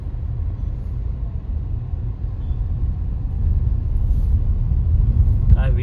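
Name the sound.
tempo van driving on road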